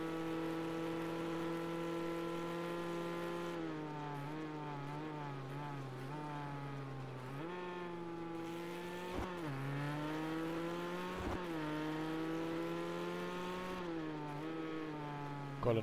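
Race cars in the video game Project Cars 2, including an Aston, roar past with sustained, rising and falling engine whines and gear shifts, moderately loud and continuous, with no talk.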